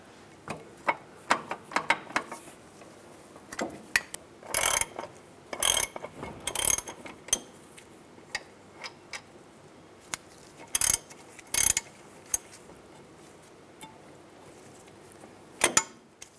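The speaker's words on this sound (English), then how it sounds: "Now I'm going to take these two bolts out for the caliper bracket." A ratchet with an 18 mm socket loosens caliper bracket bolts on a 2002-2005 Chevrolet Trailblazer front brake, close, dry clicking bursts separated by short pauses, ending with a final quick run of clicks.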